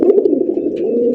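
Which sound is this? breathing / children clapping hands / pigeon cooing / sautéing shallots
pigeon cooing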